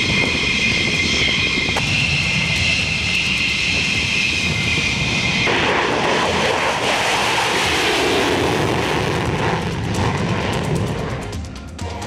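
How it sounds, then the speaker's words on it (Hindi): Roaring jet engine noise of Israeli fighter jets taking off on a bombing mission toward Iran, a loud continuous broadband rush that shifts in character midway and fades slightly at the end, with no speech. "सौ फाइटर जेट ने भरी उड़ान।"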